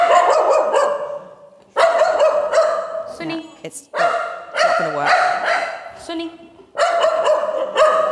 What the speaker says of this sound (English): otherwise we're rewarding her for the barking